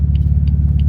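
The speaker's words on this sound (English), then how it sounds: "The car sounds amazing." A BMW F80 fitted with VRSF intakes and charge pipes idles with a deep, steady engine rumble, close and loud, with a few faint higher ticks over the drone.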